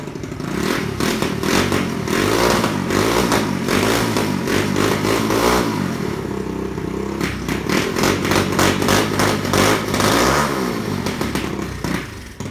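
An ATV engine running after a carburetor repair, loud and close: a steady, rough idle with uneven throttle blips and some clattering, continuing throughout.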